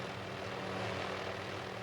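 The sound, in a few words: helicopter flying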